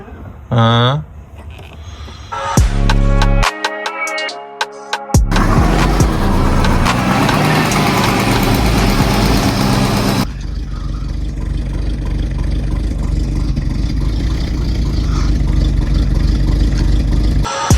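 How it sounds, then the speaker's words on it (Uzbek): A petrol-converted Mercedes car engine starts and runs with a rough, uneven, vibrating idle and a steady rumble, after some brief mechanical clicks and rattles. "Ishlayapti, lekin stabil emas, titrash bor. Chunki bu motor benzinga moslashgan."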